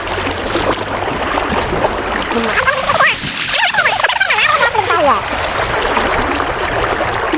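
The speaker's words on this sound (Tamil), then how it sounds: "மாடு குளிக்குது பாருங்க" A cow bathing in a stream in rural Tamil Nadu, with running water and splashing that rises mid-clip over a steady trickling flow, while people talk nearby.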